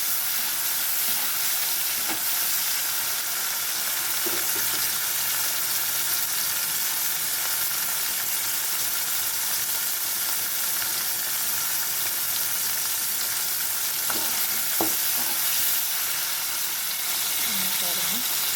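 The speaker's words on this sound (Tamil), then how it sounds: "தக்காளி லைட்டாக அமுக்கணும் அமுங்குற அளவுக்கு வதங்கணும்" Tomatoes sautéing in a pan for a brinjal and raw mango kuzhambu, a constant loud hiss of frying with a few faint stirring knocks scattered through, close and continuous.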